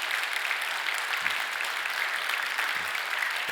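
Steady, warm applause from a church congregation indoors welcoming pastors at a Sunday service, many hands clapping continuously at an even level.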